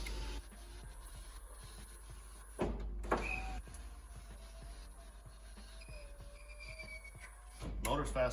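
Power window motor in a Chevrolet Silverado door being tested, a faint whirring motor hum running for several seconds, with brief clunks as the glass stops and a voice talking over it.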